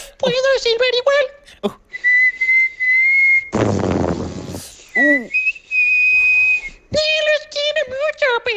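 A person whistles in bursts with vibrato, imitating a cartoon character's whistle, with sliding and held tones, between spoken phrases and a short noisy burst in the middle.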